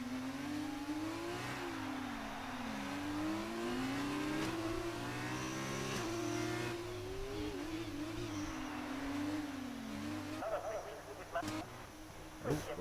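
F2 race car in a racing video game on the Monaco street circuit, its engine whining steadily with pitch rising and falling through gear changes and corners, while a commentator talks over it throughout.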